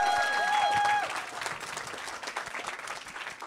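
A room of wedding guests applauds the newlyweds at an Indian Christian wedding reception. Loud, dense clapping with a few whoops starts at once and then thins into scattered claps, with some cheering mixed in.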